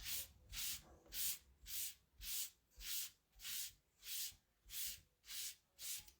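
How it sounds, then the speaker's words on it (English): Wax is rubbed by hand onto a wooden heart in smooth, even back-and-forth strokes, about ten rhythmic swishes close up with no talking. "All right, we'll get our wax out again. And just go over this."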